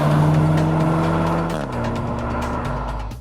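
Skoda Octavia RS engine revving hard above 3,000 RPM, a loud, close, throaty drone that climbs and then drops in pitch as the revs shift, with no talk.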